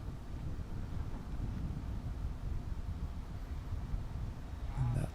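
Strong headwind on a golf course buffets the microphone as steady low roaring rumble throughout, with no voices.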